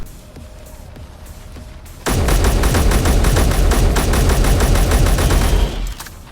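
A gun in Space Engineers opens up on alien spiders, a sustained rapid burst of loud automatic fire that starts abruptly after a quieter stretch and cuts off near the end.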